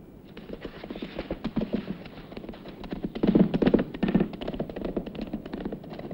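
A horse's hooves clip-clop steadily on hard ground as a rider leaves in an old Western setting, a moderately loud rhythmic beat that swells midway then continues, with no voices.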